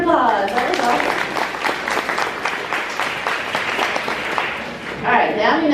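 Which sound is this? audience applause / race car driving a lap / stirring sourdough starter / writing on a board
audience applause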